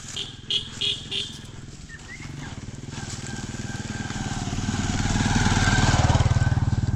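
A motorbike approaches along a road in Kenya, its engine buzzing faintly at first and swelling steadily louder and nearer, with brief voices and clatter at the start.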